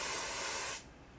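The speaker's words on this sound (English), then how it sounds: "It's Ion Finishing Solutions Fine Mist Styling Sprayer." Ion fine mist styling sprayer spraying a wig, a single short airy hiss that stops abruptly, close up.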